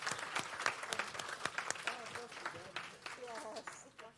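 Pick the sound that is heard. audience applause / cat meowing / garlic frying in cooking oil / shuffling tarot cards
audience applause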